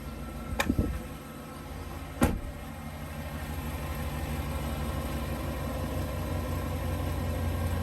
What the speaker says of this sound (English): You can hear the engine quieted down because the oil is now throughout the motor.